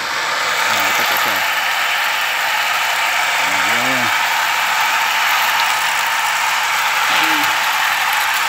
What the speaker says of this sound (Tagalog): Ito po, electric motor. Ginawa ko po para po sa water system dito.